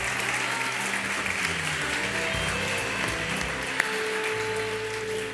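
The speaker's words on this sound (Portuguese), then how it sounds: "Aplauda o Senhor." A church congregation applauds steadily throughout a worship service, a continuous wash of clapping with faint tones and murmur beneath, one sharp transient near the end.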